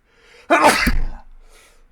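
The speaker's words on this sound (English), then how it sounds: "Oh, I need to sneeze." A single sharp human sneeze bursts out after a brief intake of breath, close and loud, then trails off into a short exhale.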